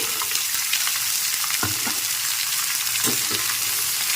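Cut potato and cauliflower stir-fry in hot oil with a constant bright sizzle, with occasional spoon scrapes and stirring knocks.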